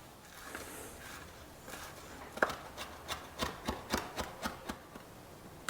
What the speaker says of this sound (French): On va venir hacher notre persil.